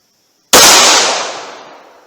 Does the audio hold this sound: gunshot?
yes